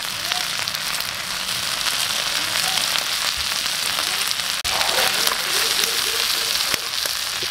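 Onion frying in a little sesame oil for chicken liver sisig, a loud, continuous crackling sizzle with dense small pops throughout.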